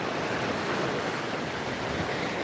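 Ocean surf rolls steadily onto a sandy beach, a constant broad wash of breaking waves with wind rush, no voices.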